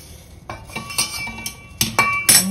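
A metal spoon stirs flour and freshly added hot water together in a bowl for instant chakli dough, giving a series of distinct scraping clinks and knocks against the vessel, close by and with no talk.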